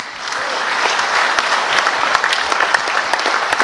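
A crowd of party supporters at a political rally applauds loudly and steadily, with sharp individual claps standing out from the dense roar of hands.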